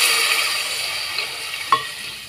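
Fried vermicelli with ghee-fried cashews, almonds and raisins hisses steadily in a pan as water is poured in and stirred, a continuous broadband sizzle with one brief sharp clink near the end.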